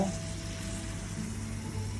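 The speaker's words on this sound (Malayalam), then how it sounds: "ഉണക്കമുന്തിരി നെയ്യിൽ വറുത്തെടുക്കുന്നു" Steady, soft sizzling of raisins frying in hot ghee for payasam, a continuous crackle with a low hum underneath and no talking.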